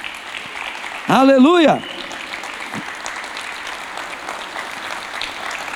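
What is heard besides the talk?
congregation applauding in church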